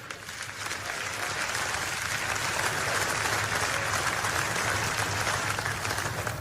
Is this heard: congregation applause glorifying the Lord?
yes